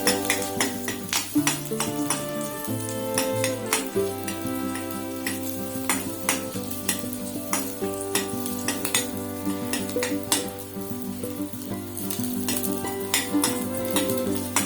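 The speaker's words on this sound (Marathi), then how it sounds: "आपली लसूण आणि कांदा आता भाजत येतोय" Garlic and onion fry in oil in a pan for a Malvani-style modak tikhle, with a steady sizzle under frequent clinks and scrapes of a metal spoon against the pan throughout, and no talking.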